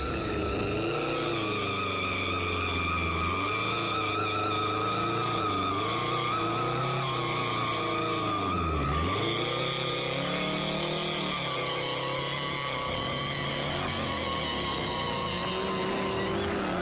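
A motorcycle from a Kawasaki-leaning riders' club does a sustained burnout, engine roaring at high revs with a shifting pitch while the rear tyre squeals and skids continuously, loud and close, with a brief dip in revs midway.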